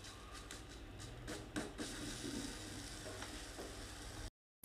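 Lauki (bottle gourd) kofta batter spooned into a lightly oiled pan over a low flame gives a soft, steady sizzle and hiss with a few faint clinks, then cuts out abruptly at the end.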